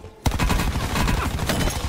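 Sudden loud fusillade in a shooter game, dense rapid shots starting abruptly after a short quiet moment and continuing without pause.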